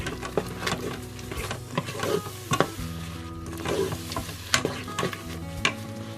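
Yogurt fries and sizzles in a pan while a utensil stirs and clanks against it in irregular knocks, close and fairly busy, with a faint mechanical hum.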